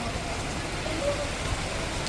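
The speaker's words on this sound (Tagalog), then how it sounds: "bigla ang lakas ng ulan." Heavy rain pours steadily during an outdoor relief outreach in Barangay Culiat, Quezon City, a dense, even hiss that holds at one level throughout with no pauses.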